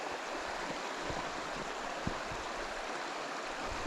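Davidson's Linn waterfall and stream in Northumberland, a steady broadband rush of falling and flowing water, close and continuous with no voices.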